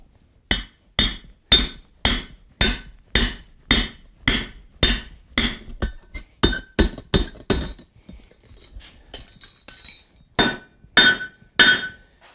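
A hammer drives a 1/2 inch drift through hot steel over the pritchel hole of an anvil, about twenty sharp ringing blows in a steady rhythm, close and loud, with a short lighter pause midway.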